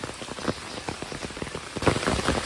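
Heavy monsoon rain pours down steadily in the Malnad hills near Koppa, a dense hiss of drops striking surfaces close by, with no voices.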